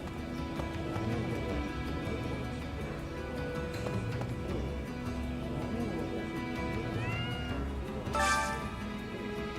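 A cat meows in Fire Emblem Three Houses amid busy game music and ambience, with a short, brighter mew rising near the end.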